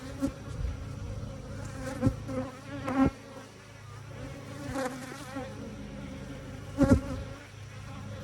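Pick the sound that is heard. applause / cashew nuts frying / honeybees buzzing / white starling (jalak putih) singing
honeybees buzzing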